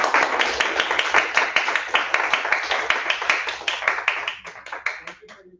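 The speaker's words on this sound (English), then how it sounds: "Let's give Angelina another round of applause." A seminar audience applauds speaker Angelina after her talk on AI and satellite-imagery research. Brisk, dense clapping holds for several seconds, then thins into a few scattered final claps.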